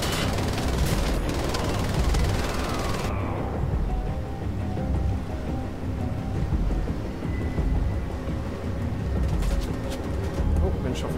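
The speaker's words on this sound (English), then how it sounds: "Big explosions, why not?" Explosions in Wolfenstein: The Old Blood, a heavy rumbling blast at the start giving way to a lingering roar with scattered cracks of gunfire, loud and fairly close.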